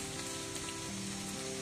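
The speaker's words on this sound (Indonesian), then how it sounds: "Tapi hujannya gak mau berhenti kawan." Steady rain falls on a surface during a storm while fishing, a dense continuous hiss and patter with a faint low tonal hum underneath and no voices.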